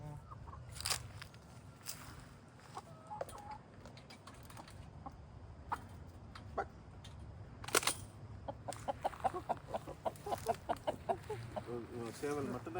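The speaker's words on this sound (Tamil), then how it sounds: "சேவல் மட்டும்தான் இந்த எச்சரிக்கை கொடுப்பாரு." Chickens cluck in a home chicken coop and a rooster gives alarm calls in sharp bursts, with a flurry of repeated calls near the end over steady background noise.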